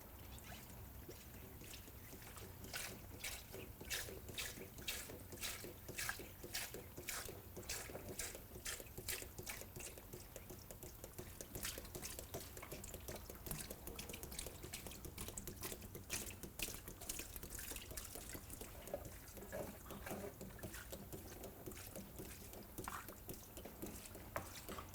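Water sprays steadily to wash down a WAZER waterjet cutter, a continuous hissing wash with a dense run of rapid ticking and spattering in the middle, heard up close with no talking.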